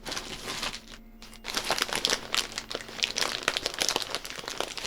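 Crinkly rustling and crumpling, like cards or wrappers handled at a tabletop card game of Legend of the Five Rings, runs close and steady for several seconds, with a brief quiet gap near the start.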